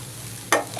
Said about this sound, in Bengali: কড়াইতে আমি এখন এই তিলগুলো দিয়ে ভেজে নেব।